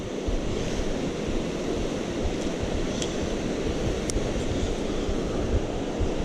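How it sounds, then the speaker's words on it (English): Creek rapids, a dense, steady rush of water that fills the whole scene, close and loud with no pauses, with a few faint clicks on top. "It is right there on the head of the rapids too."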